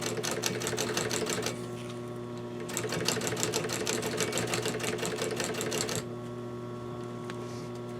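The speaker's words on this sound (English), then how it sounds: "This is where a home sewing machine is just going to have a hard time with all of these" A home sewing machine stitches through thick layers of slipcover fabric in rapid bursts, stopping briefly mid-way and then running again before going quiet, with a steady motor hum throughout.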